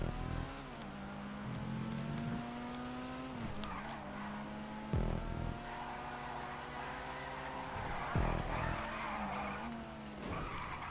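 Car in a GTA V Online stunt race at the beach skidding and spinning out, engine droning and shifting pitch while tires squeal in repeated bursts, heard alone without talk.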